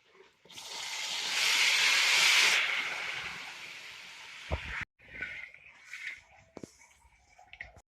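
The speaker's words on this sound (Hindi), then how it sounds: "अब इसके अंदर हम 2 कप के करीब पानी ऐड करेंगे।" Water poured into hot roasted semolina with coconut and raisins in a pan for halwa, a loud hissing sizzle that swells and then fades, followed by quieter stirring and clinks.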